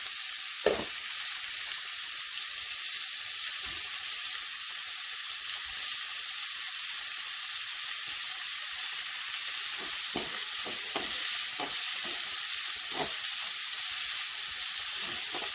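Chopped tomatoes sizzle steadily in a hot pan while crab sukka cooks, a loud continuous frying hiss broken by occasional clinks and stirring knocks.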